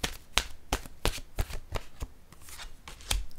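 Tarot cards shuffled by hand in a series of crisp riffling bursts, roughly every third of a second, close and moderately loud with no talking.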